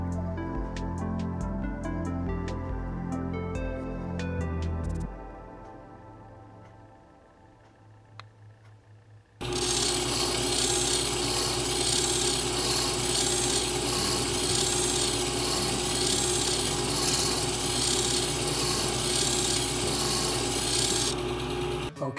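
A danburite gemstone is ground on a faceting lap, a steady, harsh abrasive rasp of a spinning lap that starts after a quieter stretch and runs loud and continuous to the end, with no talking.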